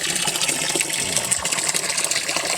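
Water gushes steadily from a solar-powered submersible pump drawing from a 40-foot well, a loud, close, continuous splashing rush with no voices.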